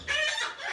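A hen gives a brief, clear cluck from nearby, a single short call under a second long, faint overall and without voices.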